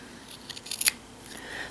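Scissors snip through kilt fabric in a short, close run of crisp cuts, alone with no talk.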